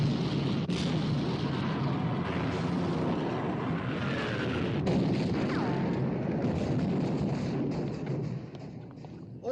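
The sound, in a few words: naval gunfire in the film Sink the Bismarck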